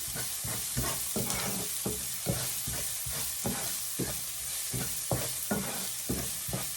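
Vegetables stirred into a pan of already-cooked ground beef for shepherd's pie, with repeated scraping strokes of a utensil over a steady, close sizzle.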